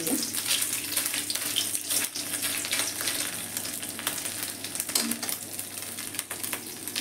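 Ginger frying with salt in a hot pan gives a steady, close, dense sizzle that runs without a break, with no voices.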